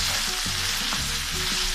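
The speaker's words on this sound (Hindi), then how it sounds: "फुल आंच पे भूनना।" Steady, loud sizzle of mutton keema frying over full flame in a karahi, broadband hissing oil with occasional spoon scrapes and stirring knocks, close up and uninterrupted by speech.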